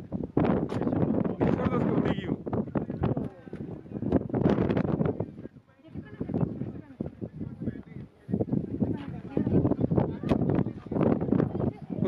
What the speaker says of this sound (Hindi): हवा चल रही